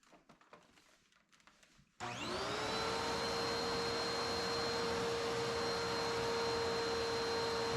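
Hoover UH70015 upright vacuum cleaner switching on after a few seconds of quiet handling noise, then running loud and steady with a high motor whine and a strong airflow roar.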